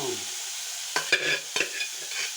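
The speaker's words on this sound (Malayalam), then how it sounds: "ബീട്രൂട്ട് ഇളക്കിയെടുക്കാം" Beetroot stir-fry with onion being stirred in a pan, a few scraping strokes of the spoon over a soft background sizzle, close and fairly quiet.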